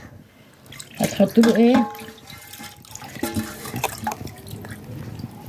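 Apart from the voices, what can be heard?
water being poured in for pickling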